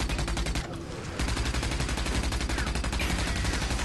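Rapid gunfire from a first-person shooter video game, a loud continuous burst of automatic shots that briefly pauses and then resumes, dense and up front with no speech.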